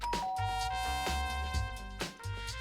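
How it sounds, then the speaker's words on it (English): A doorbell in the video game Danganronpa gives a bright, clean chime, with repeated ding-dong tones ringing out over a low backing hum. "I press the doorbell."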